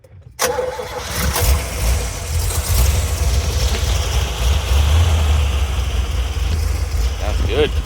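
A 1967 Corvette roadster's original L79 327/350 V8 cranks and catches with a sharp start, then settles into a loud, steady, slightly lumpy idle close by that continues to the end.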